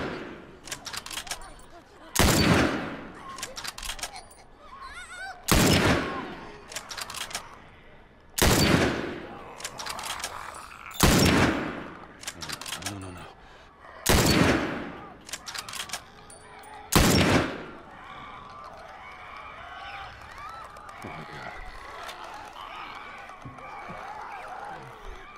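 Gunfire in The Last of Us video game, heard as about seven loud, sharp shots spaced a few seconds apart, each followed by a short tail before the scene goes quieter.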